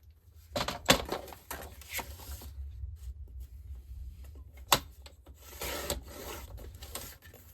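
Paper card stock being trimmed by half an inch for a slide-to-reveal greeting card, heard as soft rubbing and rasping strokes with a few sharper scrapes, close and quiet with no talking.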